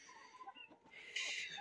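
Chickens and Indian game roosters in a coop give soft scattered clucks and chirps at close range, with a brighter burst of calls toward the end.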